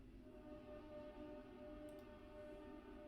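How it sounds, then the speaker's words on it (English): A train rumbles past outside, heard from indoors as a faint, continuous low drone with steady tonal hum throughout, no talking. "You can hear the train loud and clear."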